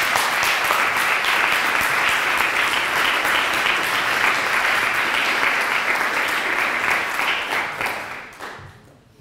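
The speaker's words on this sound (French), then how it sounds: "Et vous pouvez l'applaudir." An audience at the final of the Coupe Francilienne applauds a performer with loud, sustained clapping from many hands, holding steady for several seconds before tapering off at the end.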